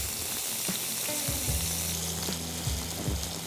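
Chopped onion frying in hot oil for a mutton mince dish, a steady close sizzle with crackling bursts and a few faint stirring knocks throughout.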